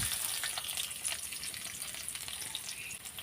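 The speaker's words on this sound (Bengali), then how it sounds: "এটা এখন ভালোভাবে আমি হালকা ভেজে নেব এখন দিয়ে দিলাম আমি পেঁয়াজ কুচি" Dried chillies and chopped onion fry in a wok for a jute leaf dish, giving a constant, close, crackling sizzle with no talking.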